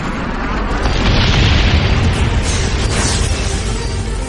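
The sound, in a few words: napalm strike explosion in video game Call of Duty Black Ops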